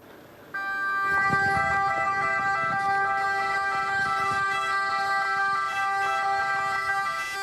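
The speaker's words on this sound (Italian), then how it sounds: "L'omaggio dei colleghi del soccorso con le sirene delle ambulanze." Several ambulance sirens suddenly start blaring together outside a parish church, loud and steady, overlapping tones holding over a rumble of engines.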